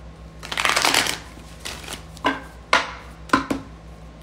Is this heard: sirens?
no